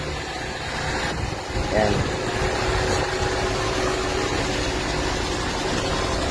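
A Toyota Corolla big body with a Japan-version 4AFE engine idles steadily after its injectors and intake were cleaned, a low continuous engine rumble running under a voice.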